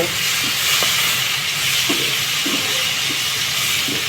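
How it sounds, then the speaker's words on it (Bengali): Prawns frying in oil in a pan for a Bengali prawn curry, a steady broadband hiss throughout with faint scattered crackles and no talk. "গোল্ডেন কালার আসা পর্যন্ত একটু ভাজবো"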